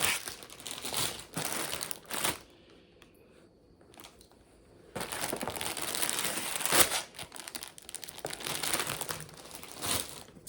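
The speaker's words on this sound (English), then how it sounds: "So sorry for the crinkling." A yarn order's plastic packaging is crinkled and handled up close, with long, loud, continuous rustling and crackling that pauses briefly in the middle before starting again.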